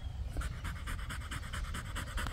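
A pit bull pants rapidly and steadily after aerobic conditioning training, close by, with a continuous rhythmic huffing and no talking.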